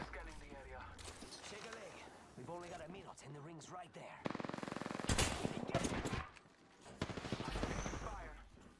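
Rapid gunfire in Apex Legends rattles in bursts over several seconds, close and loud, with players talking throughout.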